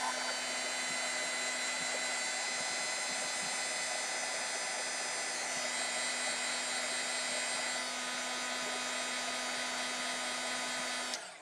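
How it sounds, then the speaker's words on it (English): A heat gun blows steadily close by, drying gel medium and microbeads on a rustic spring canvas; an even, loud whooshing hum with a fixed whine runs unbroken for about eleven seconds before cutting off. "you could go in with your heat gun and zap the microbead so that the gel medium dries a little bit"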